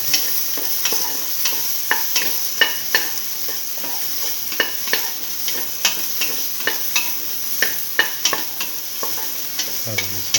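Beef and okra stew mixture being sautéed in a pan, with a steady sizzle and repeated scraping, stirring strokes of a utensil at close range, no voices.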